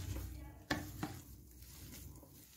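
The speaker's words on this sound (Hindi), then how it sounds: "इस तरह से हल्के हाथों की मदद से इसमें तमाम जो है वो मटेरियल मिक्स करते हैं" A potato, egg and spice kebab mixture being mixed gently by hand in a bowl, faint soft squishing with two brief sharper taps, quiet and close.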